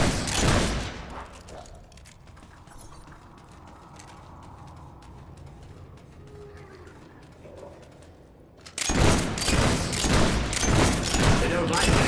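Gunfire in the video game Fable 3: rapid, dense volleys of shots at the start and again at the end, with a quieter stretch between, set among in-game voices.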